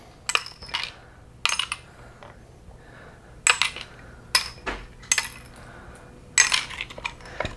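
Metal parts from a Traxxas X-Maxx RC truck's center differential tossed into a rinse container, several sharp clinking clatters in separate bursts, close by, with no talk.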